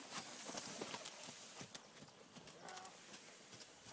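Horse hooves clip-clopping in a repeated rhythm as a mare lopes around a circle in a windy outdoor arena, moderately close, with wind noise and occasional voices in the background.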